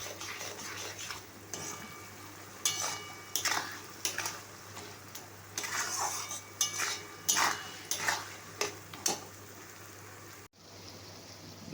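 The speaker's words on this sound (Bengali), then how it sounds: "এবার মশলাটাকে কষে নেব" Spice paste for a chicken curry is fried and stirred in oil in a pan, with a spoon scraping and clinking against the metal in irregular bursts over a steady low sizzle, close up and without talk.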